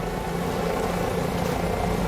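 Helicopter in the Cepheus Protocol video game, a steady droning engine and rotor hum with no clear blade thump, close and constant throughout.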